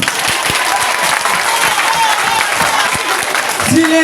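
Applause for a student at a school gathering, with a crowd clapping steadily and loudly throughout and a voice speaking over it near the end.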